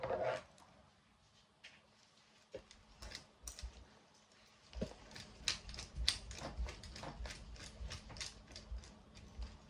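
A spring scissors lanyard cord for nursing practice being pulled and tested, giving a series of sharp clicking, ratcheting snaps of varying loudness, close up with no talking.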